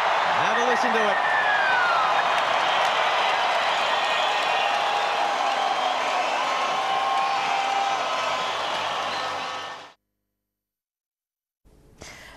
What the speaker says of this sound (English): the crowd going absolutely crazy here in Port Moresby